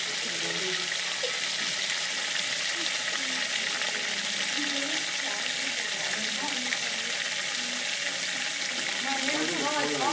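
Liquid nitrogen boils and hisses steadily as it pulls heat out, a dense continuous bubbling seethe with faint crackles underneath, close and even throughout.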